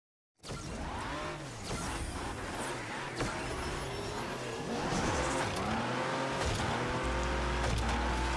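P900 car racing in a video game, engine starting abruptly then revving through repeated rising and falling gear shifts, loud and close for about eight seconds, with faint tire squeal and no talk.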